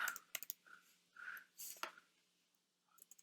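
Soft, quiet keystrokes on a computer keyboard as a command is typed into a command-line prompt, a few short clustered clicks with pauses between, near and alone without talk.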